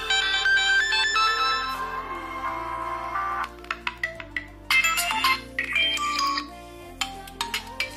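A melodic ringtone plays loudly from a JioPhone feature phone's small speaker, a steady tune that breaks into choppy, staccato notes in the second half.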